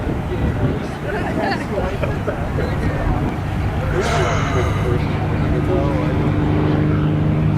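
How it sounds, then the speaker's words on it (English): An aircraft engine in a flight simulator game throttles up, a steady droning roar that holds loud throughout while people talk over it. "Alright, throttle up."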